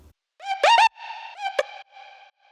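The same Splice vocal sample, now processed with stereo spread, distortion and saturation, plays as several clipped, harmonically rich sung syllables with a loud early burst and fading tail.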